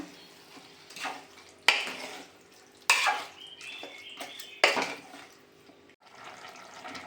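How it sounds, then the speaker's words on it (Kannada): Chicken pulao ingredients being stirred and mixed in a pot, with several sharp scraping clatters of a utensil against the pot over a soft bubbling, sizzling background, close and moderately loud, no talking. "ಇದೆಲ್ಲ ಹಾಕೊಂಡ್ಬಿಟ್ಟು ಮಿಕ್ಸ್ ಮಾಡೋಣ"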